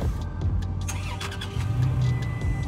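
A Toyota Tacoma TRD Pro V6 engine starts up with a quick crank, then catches and settles into a rumbling idle, close and fairly loud, with no voices.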